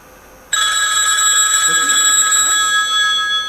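A telephone rings suddenly and keeps ringing steadily, a bright electronic trill close by and loud, with a brief murmur of a voice beneath it.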